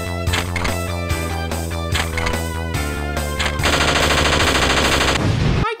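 Rapid machine-gun fire shredding an old catching board in the Eyeshield 21 video game, loud sustained bursts layered over game music, ending in a dense continuous roar.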